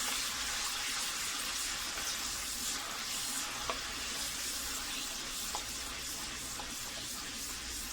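Onion paste fries in oil for a spiced goat liver dish, giving a steady, soft hiss and sizzle throughout with a few faint clicks of utensils.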